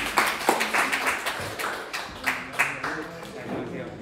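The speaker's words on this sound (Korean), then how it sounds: "박수 치죠." An audience at a group discussion event claps in a brief, moderately loud patter of uneven hand claps, with a voice talking faintly underneath.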